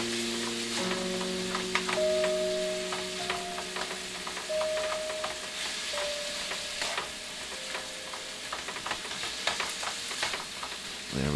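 Chicken pieces sizzle and fry steadily in a pan for a lemony chicken Alfredo, with repeated clicks and scrapes of stirring. A faint high tone wavers in the background.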